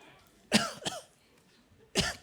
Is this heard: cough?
yes